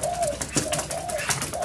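Wild short-billed corellas, galahs and other birds gather at seed thrown on the ground beside backyard aviaries, giving steady close chatter and repeated calls, with a few sharper cries standing out.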